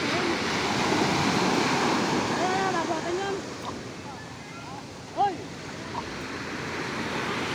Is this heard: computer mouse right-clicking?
no